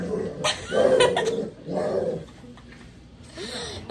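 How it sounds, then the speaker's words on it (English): A dog in a home with many dogs growls in annoyance, low rumbling bursts repeating close by, two longer stretches with a softer one trailing off, while a voice talks faintly underneath. "That is her Like growling because she's annoyed that Dumpling is bothering her."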